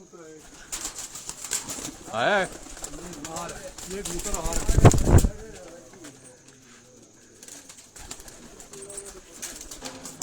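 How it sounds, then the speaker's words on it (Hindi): Pigeons coo and burble nearby on a rooftop, with a brief flutter of wings as one lands, while someone talks over them. "ये दोस्तों एक कबूतर जो है ये लैंडिंग पोजीशन पे है"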